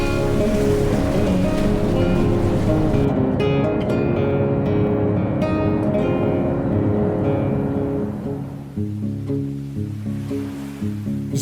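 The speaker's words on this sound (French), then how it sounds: "Une plage de sable noir, dense et volcanique, caressée par l'Atlantique." Atlantic surf breaks on a black volcanic sand beach in Madeira, a loud continuous wash of waves that eases toward the end into quieter, rhythmic lapping.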